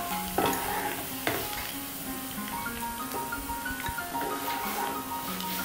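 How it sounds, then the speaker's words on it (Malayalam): Garlic sizzles in hot oil in a pan for mixed fried rice while a utensil stirs it, giving a steady crackling hiss broken by a few scraping knocks, close up and with no talking. "ഈ വെളുത്തുള്ളി ഏകദേശം എണ്ണയിൽ നന്നായിട്ട് പിടിച്ച് വന്നിട്ടുണ്ട്."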